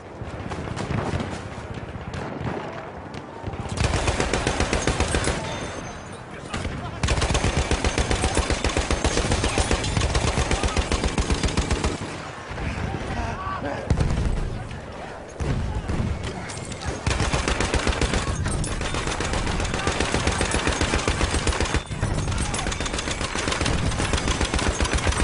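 Automatic weapons fire in a Battlefield shooter game, rattling in long loud sustained bursts with brief pauses between, close and dense throughout.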